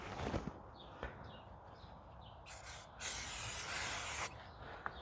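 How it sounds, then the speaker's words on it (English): Bursts of broadband aerosol brake cleaner spray hiss on a Jeep Wrangler JK brake caliper, two longer sprays in the second half, with light rubbing and clinking around them. "Spray with brake clean"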